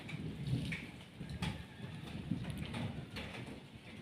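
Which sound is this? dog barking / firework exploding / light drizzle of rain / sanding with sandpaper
light drizzle of rain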